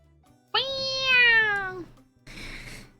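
A pet cat named Sadie gives one clear, drawn-out meow close to the microphone, then a short breathy follow-up sound.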